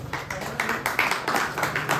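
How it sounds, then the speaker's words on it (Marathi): A crowd at a Satyanarayan puja gathering in Kotwade, Ratnagiri claps for team members, giving a brief, fairly steady patter of hand claps at moderate distance. "आपण जोरदार टाळ्या वाजवूया यांच्यासाठी."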